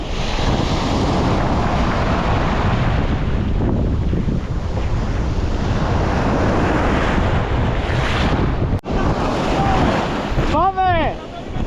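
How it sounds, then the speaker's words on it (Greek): Sea waves surge and crash continuously on the Corfu coast while strong wind buffets the microphone, loud and close, with a brief voice near the end. "Δείτε εδώ κύματα."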